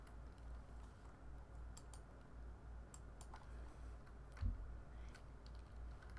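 Faint, scattered clicks of typing on a computer keyboard come in irregular bursts over a quiet, low hum, with one slightly heavier keystroke near the end.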